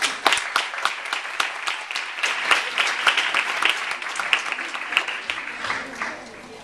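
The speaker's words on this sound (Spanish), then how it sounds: "Vamos a darle un fuerte aplauso." An audience at a talk applauds steadily, many hands clapping at once in a dense, sustained burst that fades slightly near the end.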